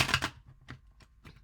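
Oracle cards being shuffled, heard as a loud burst of riffling followed by several brief, soft card flicks spaced apart at close range.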